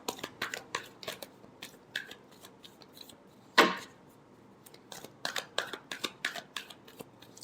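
Tarot cards being shuffled by hand: quick, crisp flicks and taps in loose bursts, with one louder, fuller riffle partway through, close and fairly quiet, with no voices.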